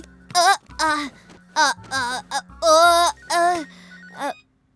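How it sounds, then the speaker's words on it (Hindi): A melodic phone ringtone plays up close as a run of short, tuneful notes with brief gaps, then stops. "फोन उठाओ गमी।"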